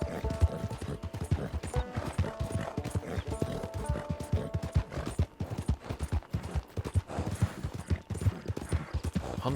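Horse hooves clip-clop in a quick, steady rhythm in the Red Dead Online video game, loud and close, with occasional snorts and tack rattles over outdoor game ambience.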